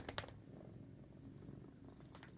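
A cat purrs softly and continuously, a low close rumble with a couple of faint clicks at the start and end, no voices.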